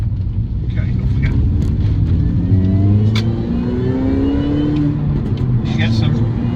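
A MINI Cooper S JCW GP accelerates hard on a road, its supercharger whine rising in pitch over a loud engine drone, heard from inside the car with someone talking.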